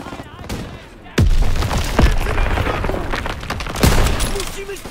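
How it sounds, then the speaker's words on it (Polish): Gunfire in the World War II shooter game Call of Duty WWII, set in Hürtgen, Germany, in November 1944: sharp loud shots and booming blasts over a noisy battlefield, with someone talking over them. "Strzały! Musimy być blisko naszych."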